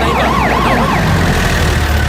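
Ambulance siren in a Bhojpuri-dubbed action film scene, a loud rising and falling wail over heavy engine and road rumble, close and continuous.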